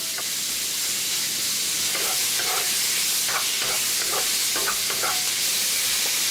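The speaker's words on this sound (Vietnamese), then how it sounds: "Sau đó thì mình cho thịt vào xào trước nè." Meat stir-frying in a pan over high heat with garlic and shallots: a steady, loud sizzle and hiss runs throughout, broken by scattered clinks and scrapes of tossing and stirring.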